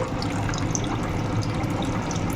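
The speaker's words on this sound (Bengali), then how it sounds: "আমি আর একটু জল দিয়ে দিচ্ছি কারণ অনেকগুলো আলু আছে তো" Water streams steadily into a pot of mutton and potatoes, a continuous close splashing gush with no speech.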